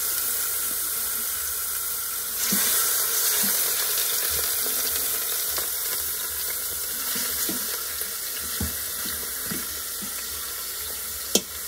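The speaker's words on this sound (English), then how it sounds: "So you hear the sizzling" Meat sizzling as it browns in an Instant Pot, a steady close frying hiss with occasional pops and a sharp clack near the end.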